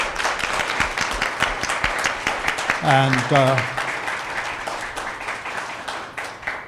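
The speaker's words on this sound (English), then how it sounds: "Can we give the panel a round of applause?" At an annual general meeting, the audience claps for a panel, a steady moderate round of applause under a brief spoken word, with voices talking across it.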